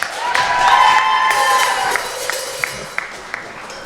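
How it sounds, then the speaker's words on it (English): Congregation applauding the band at a church service, a dense burst of clapping and cheering that thins into a few scattered claps. "Let's give our band one more round of applause."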